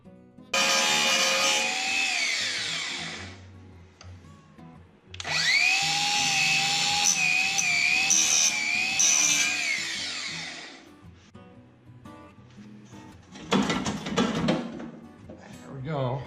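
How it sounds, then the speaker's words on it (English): A power grinder cuts off a stripped screw on a Ferguson TO-20 tractor, two loud, high whining bursts of several seconds each, followed by a short rattling clatter near the end. "This last one is stripped completely, so I'm going to have to grind it off."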